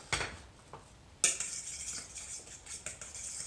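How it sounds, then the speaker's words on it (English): Flour being mixed into beaten egg in a bowl, soft scraping and light clinks of a utensil against the dish, with a couple of sharper knocks, fairly quiet and close. "Mix that flour and egg together really well."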